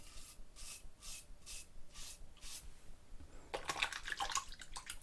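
Razor blade drawn across skin with a Geo F Trumper Limes lather, a run of soft rasping strokes, near and quiet, turning into a denser, brighter scrape near the end.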